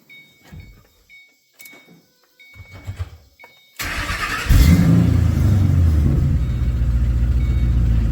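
Quiet clicks and shuffles, then a 2005 Ford Mustang GT engine with stock exhaust cranks and catches at once, settling into a loud, steady low rumble at idle.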